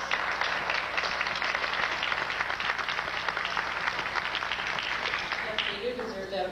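Audience applause in a hall at a Berklee event, steady moderate clapping that continues evenly and fades slightly near the end.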